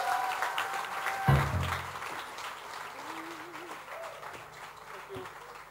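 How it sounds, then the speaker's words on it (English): Moderate audience clapping at a live music launch event, steady applause mixed with a whoop and voices talking over it. "I think we should clap for him."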